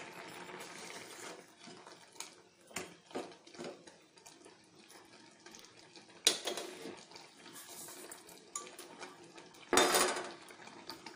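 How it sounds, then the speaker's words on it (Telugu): A spoon stirs sugar into semiya payasam in a metal pot, with intermittent scraping and clinking against the sides, a few sharper knocks, and quieter gaps between strokes. "చూడండి, షుగర్ వేసుకొని కలబెట్టాలి"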